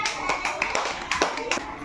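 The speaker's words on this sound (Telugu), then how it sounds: "క్లాప్స్ కొట్టండి" Second-class children in a classroom clap their hands together in a quick uneven burst of sharp claps, with young voices chattering underneath.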